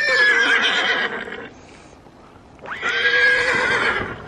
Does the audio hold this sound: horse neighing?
yes